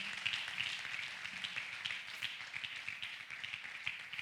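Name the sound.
congregation clapping hands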